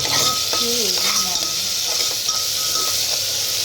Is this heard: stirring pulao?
yes